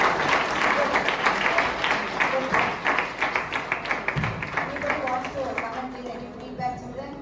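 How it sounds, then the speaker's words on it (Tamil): An audience applauds a student at a program event, with rhythmic, fairly close clapping that slowly thins out, and voices murmur underneath. "அந்த மாணவருக்கு மீண்டும் ஒரு நல்ல கைத்தட்டல்."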